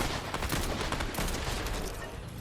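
Rapid bursts of gunfire from a weapon in Fortnite rattle on without a break, dense, loud shots stacked over one another against a constant game backdrop.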